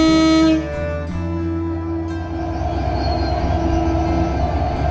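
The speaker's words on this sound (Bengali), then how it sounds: "দ্রুতযান এক্সপ্রেস এই মুহূর্তে আক্কেলপুর রেলওয়ে স্টেশনের 1 নম্বর লাইনে দাঁড়িয়ে আছে।" Drutojan Express, an intercity train, standing on line 1 at Akkelpur railway station in Bangladesh: a loud steady engine drone with a tonal hum that cuts off sharply after the first half-second, then continuing rumble throughout with no speech.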